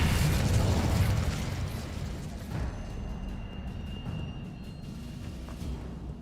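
Spell blasts from Incendio and Confringo in Hogwarts Legacy, a loud rumbling burst at the start that fades into a lingering crackling roar.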